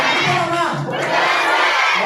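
At an achievers' recognition celebration, an audience roars together in loud, close cheering and shouting, sustained for about two seconds.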